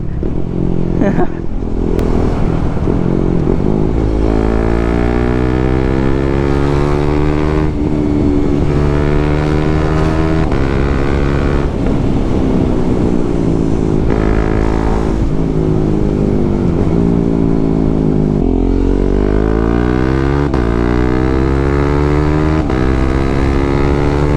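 A KTM 390 Duke single-cylinder motorcycle on the road, its engine droning loudly and steadily with repeated rises and falls in pitch as it speeds up and shifts, plus heavy wind rush near the microphone.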